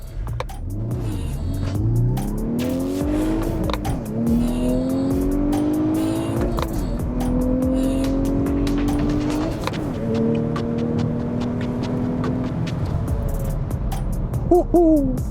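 Sixth-generation VW Golf R accelerating hard, its engine rising in pitch through several gears with shifts between, loud and close for about fifteen seconds with no talking.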